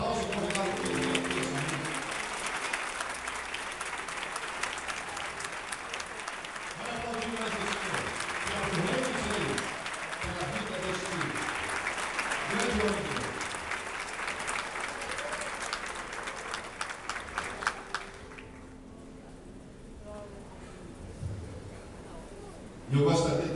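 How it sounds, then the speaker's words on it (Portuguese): A church congregation at an Assembly of God service claps to welcome a pastor, sustained crowd applause mixed with voices and cheering that fades down toward the end before a brief loud sound closes it. "Vamos recebê-lo com um forte aplauso e convidá-lo para o Deus."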